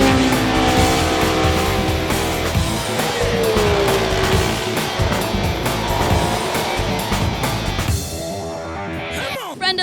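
Historic race cars at a racetrack during a motorsport legends weekend, engines roaring and revving loudly with pitch sweeps as cars pass, a dense continuous racket throughout with some voices mixed in.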